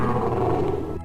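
A lion in a children's cartoon story roars loudly and continuously, a deep rough growl that holds for about a second before cutting off abruptly, with no talking over it.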